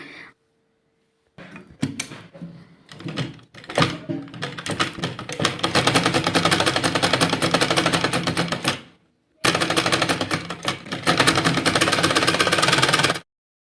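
A sewing machine stitching a shirt collar, starting with a few short hesitant runs, then a loud, rapid, steady mechanical rattle that pauses briefly and resumes at full speed, very close.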